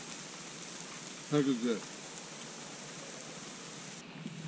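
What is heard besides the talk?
rain falling at a Big Sur campsite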